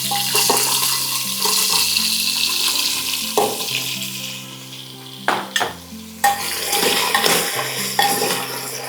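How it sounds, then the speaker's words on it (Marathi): Potatoes dropped into hot oil with cumin seeds inside a pressure cooker for pav bhaji, giving a steady close sizzle with stirring scrapes and a few sharp clatters of utensils against the pot. "आता जिरे थोडेसे गरम झाले की आपल्याला यामध्ये सर्व बटाटा टाकून घ्यायचा"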